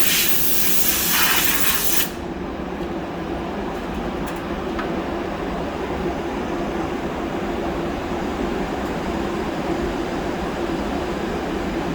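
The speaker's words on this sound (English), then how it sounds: "This powder coating is so amazing, it just attracts right to the metal." A powder coating spray gun coats excavator parts with a loud, close hiss for about two seconds, then a steadier, softer rushing hiss from the booth continues throughout.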